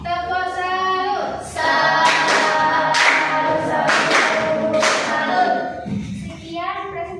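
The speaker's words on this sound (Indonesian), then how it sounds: "kasih tepuk salut dulu. Tepuk salut." A class of vocational school students performs the rhythmic "tepuk salut" clap, with sharp clap bursts in a patterned beat as their voices chant along in unison, loud and close in a classroom.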